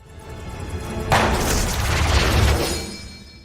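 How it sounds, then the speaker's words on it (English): A gunshot in a movie scene lands as a sudden loud boom with a broad crash that rings and rumbles for a couple of seconds before fading. "The killer shot again."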